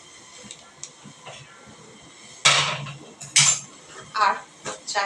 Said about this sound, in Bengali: তো চাটা এখন ঢেলে নিচ্ছি কৌটোতে।